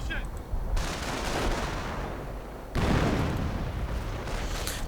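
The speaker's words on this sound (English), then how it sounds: "looks like we are having, yes, counter-artillery against the Nebelwerfers" Counter-artillery fire against Nebelwerfer rocket launchers in a World War II real-time strategy game: dense, continuous rumbling barrages of gunfire and explosions. The battle noise swells in two loud waves with no one talking.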